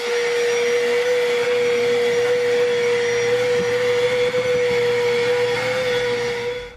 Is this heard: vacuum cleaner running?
yes